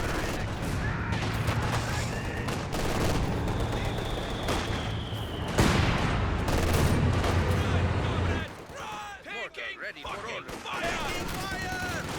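Company of Heroes 2 battle in a 2v2 match: mortar blasts and bursts of gunfire crack through continuous combat noise, with a sharp loud explosion midway and a voice talking over the action.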